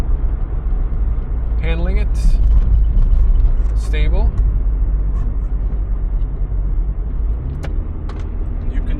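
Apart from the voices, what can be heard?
VW Golf 2 1.8 car driving at night through a bend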